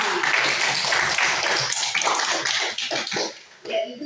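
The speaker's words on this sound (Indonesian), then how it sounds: "Kita kasih aplaus dulu untuk" A classroom of students applauds a pupil named Sakina, with dense, steady clapping that holds for a few seconds and then thins out toward the end.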